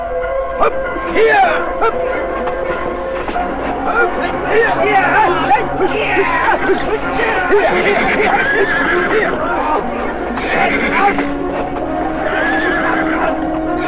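Several horses neigh and whinny repeatedly amid hoofbeats and frantic shouting voices, a busy chase scene filled with loud overlapping calls and constant commotion.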